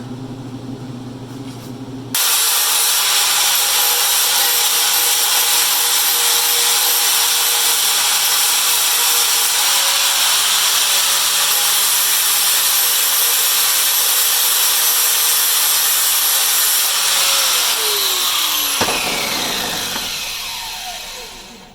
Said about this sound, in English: A little bit of shaping, a little bit of grinding.